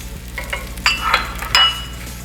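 A large omelet of six or seven eggs cooks in a pan, with a soft sizzle under brief scraping and stirring strokes and light clinks from a utensil, close and without talk.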